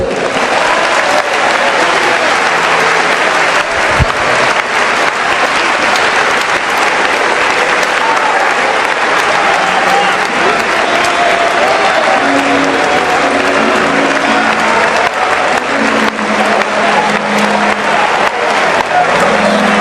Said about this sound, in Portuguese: Jesus querido, tu aceitarias um aplauso do teu povo?